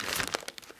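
Plastic piping bag crinkling in the hands as it is filled with butter-based cream for piping green leaves, a run of close, light crackles and rustles, no talk.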